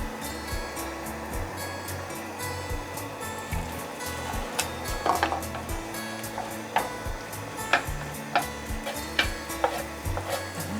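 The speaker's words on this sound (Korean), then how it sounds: "스크램블 해볼게." Eggs being scrambled in a pan for a Korean home-cooking dish, with soft sizzling under repeated scraping and stirring strokes of a utensil against the pan, fairly quiet and close, with no talking.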